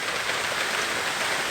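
Steady heavy rain pours down in a tropical downpour, a dense continuous hiss close by with no voices.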